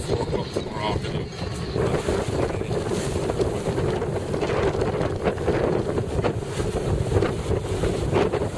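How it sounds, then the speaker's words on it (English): Steady, buffeting wind roars across the microphone aboard a sailing boat on a river estuary, a loud continuous rush with water noise beneath and voices talking through it. "It's breezy."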